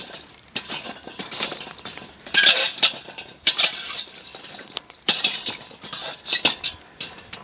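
Hot coals raked to one side of a charcoal grill set up for indirect cooking: repeated close scraping strokes with metallic clinks and rattles in uneven bursts, with no voices.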